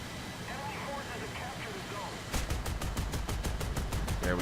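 Bombs and gunfire in a War Thunder tank battle: a steady engine-like drone, then a loud burst of rapid, evenly spaced gunshot cracks for the last couple of seconds.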